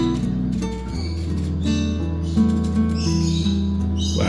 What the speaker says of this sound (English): those birds are so noisy. They're on the porch making a lot of noise.